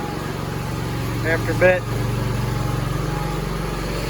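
An Allis Chalmers tractor engine idles steadily just after a head gasket installation, a constant low rumble that runs throughout, briefly overlapped by a short spoken phrase.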